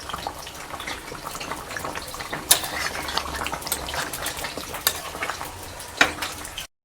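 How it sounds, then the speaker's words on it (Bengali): A spoon scrapes and knocks around a pot of simmering chicken curry with potatoes, giving close irregular stirring sounds and a few sharp clanks over a bubbling, watery background. "এটাকে একটু নেড়ে দিচ্ছি।"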